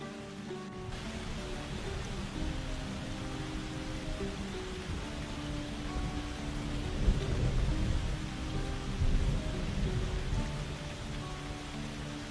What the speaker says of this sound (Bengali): দু তিন দিন ধরে যে বৃষ্টি হচ্ছে